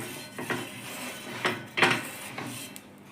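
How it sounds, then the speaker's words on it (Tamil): Faint metallic scraping and soft clinks as oil is spread around a hot dosa griddle, a few short strokes with a brief louder rub near the middle, no talking. "எண்ணெய் ஊற்றிக்கலாங்க. எண்ணெய் தேய்ச்சிக்கிறேன் சுற்றிலும்."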